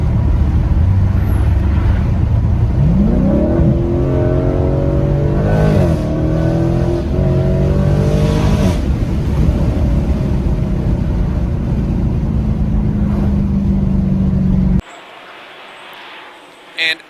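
A Dodge Challenger fitted with a Legmaker cold air intake revs and accelerates hard, its engine note climbing and sustained loud for most of the stretch, then dropping away abruptly to quiet near the end.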